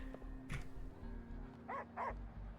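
A dog in the video game Wuthering Waves gives two quick, soft barks close together, plus one earlier yelp, over a steady low game hum.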